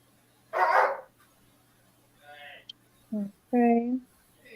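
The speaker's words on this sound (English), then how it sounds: "I got a mouthy hound dog" A hound dog barks near the mic: one rough bark, then a faint whine and a brief yip, followed by two sharper, higher barks close together.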